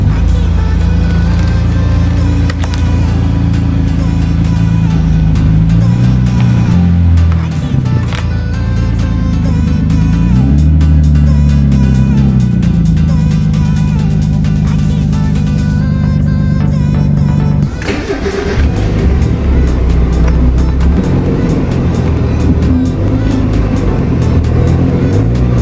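A Toyota Supra pulls out of a workshop, its engine note steady and loud with shifting rumbles and a revving swell before a sudden change near the end, some speech faintly mixed in.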